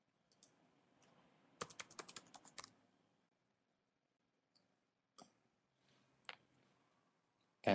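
Keys tapped on a computer keyboard to enter a username and password, a quick cluster of crisp close clicks followed by a few scattered keystrokes, quiet and otherwise silent.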